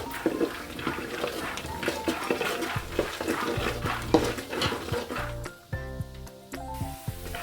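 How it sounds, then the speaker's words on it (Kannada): Peanuts frying in a little oil are stirred briskly, with busy scraping, rattling and sizzle from the pan up close, ending in a few quieter clinks. "ಈ ಫಸ್ಟ್ಗೆ ಕಡಲೆ ಬೀಜ ಕರಿಬೇಕು, ಅಂದರೆ ಫ್ರೈ ಮಾಡ್ಕೋಬೇಕು ಚೆನ್ನಾಗಿ."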